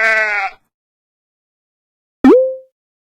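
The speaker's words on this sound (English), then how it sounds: "Sheep." A sheep bleats once, a short, clear, close bleat ending in a falling tone, following a brief harmonic animal call and a pause of silence.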